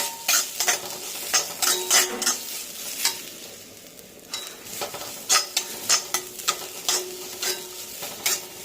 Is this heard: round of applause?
no